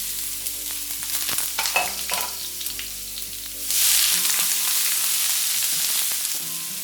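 Chopped white onions sizzle in hot oil in a pan, a steady bright frying hiss that swells louder partway through as they hit the oil and keep crackling.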